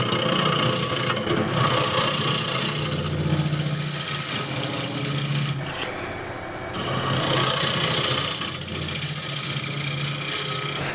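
Wood lathe spinning a wooden tray while a scraper works the surface, a loud continuous rasping scrape with a low motor hum, briefly easing off midway before resuming at full intensity.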